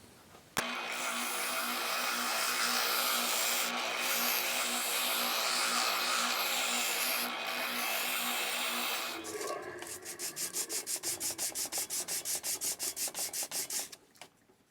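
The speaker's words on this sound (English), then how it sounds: "you can go on a flat sander or on the spiral sander and clean it down" A flat or spiral power sander cleaning down a wooden keelson for a model ship, first a loud steady grinding whir, then a run of rapid rhythmic rasping strokes before it stops.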